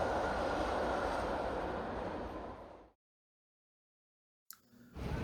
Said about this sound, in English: hurriedly ran to the station and hopped on a train